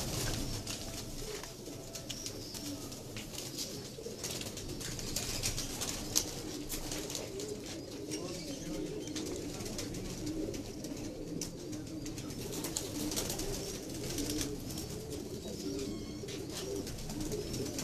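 Soft, low coos of high-flying Pakistani pigeons repeat quietly against a faint background hum, with a few light chirps mixed in.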